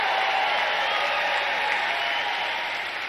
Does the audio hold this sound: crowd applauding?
yes